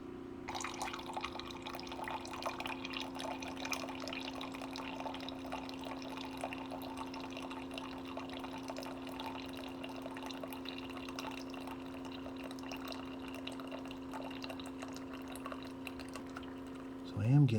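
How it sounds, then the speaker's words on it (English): A Keurig K Duo Plus coffee maker brews an 8-ounce cup through a reusable K-cup, giving a steady, even hum with a soft watery trickle and drip throughout. A brief louder burst comes at the very end. "And now it's brewing through the K-cup"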